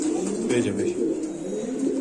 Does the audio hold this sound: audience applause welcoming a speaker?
no